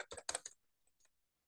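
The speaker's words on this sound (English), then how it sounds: "Can you hear the sound of my keyboard?" Several quick keystrokes on a computer keyboard clatter in a short burst, then a couple of faint isolated taps trail off into near silence.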